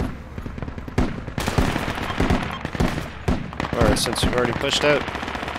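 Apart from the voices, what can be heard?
gunfire in the video game Project Reality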